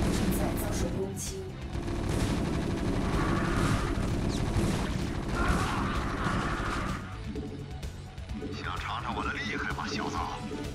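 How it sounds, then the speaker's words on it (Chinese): Gunfire and artillery blasts crackle and boom through a battle in a real-time strategy game, a dense, continuous barrage with scattered explosions, overlaid by game voice lines and effects. "炮火轰鸣。"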